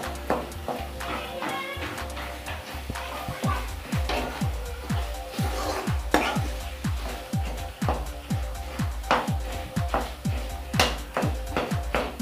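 Cooked red amaranth greens being broken up and mixed in a pot, a steady series of soft rhythmic thuds and scrapes from a spoon, repeating roughly twice a second, close and moderately loud.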